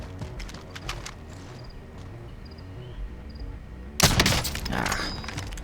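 Burst hip-fire from a Tec-9 in Warzone erupts as a loud, dense volley of close shots near the end, after a stretch of quieter game ambience with faint scattered clicks and thuds.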